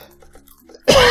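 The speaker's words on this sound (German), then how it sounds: "jetzt muss ich immer husten" A single sudden cough or throat-clearing burst from a German-speaking game commentator, loud and close, breaking out at the end after near silence.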